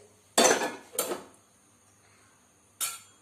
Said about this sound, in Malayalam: ഗ്യാസ് കത്തിച്ച് അതിലോട്ട് നമ്മൾ പാനെടുത്ത് വെച്ചു